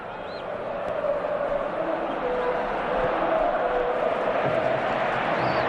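A capacity crowd of just over 80,000 at a Real Madrid versus Barcelona football match in a stadium fills the air with a steady, broad roar that swells slightly, sustained throughout with no individual voices standing out.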